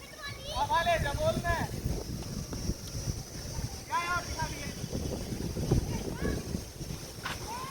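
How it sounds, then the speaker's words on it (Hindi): Gusty wind roars across an open cricket ground, a steady rushing noise that buffets the microphone throughout, while someone talks over it. "आप हवा देख सको भाई कितनी बढ़िया हवा चल रही है"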